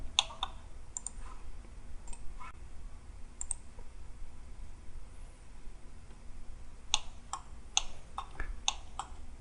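A computer mouse clicks while working in Autodesk Inventor CAD software: a few sparse, faint, sharp clicks early on, a quiet pause, then a quicker cluster of clicks near the end over a low steady hum.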